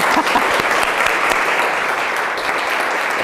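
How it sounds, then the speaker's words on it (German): Dense, loud applause from an audience at a eurythmy exercise session, steady broadband clapping filling the whole moment with no voices over it. "Da könnten wir mal klatschen."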